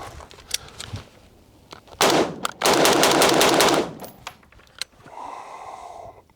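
A DesertTech MDRx rifle fires close by: a few single sharp shots, then two loud rapid strings of fire, with metallic clicks and handling noise after.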